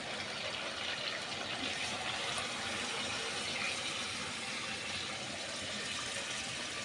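Water poured steadily into a pot of chicken dum biryani, a continuous close gushing pour with no voices.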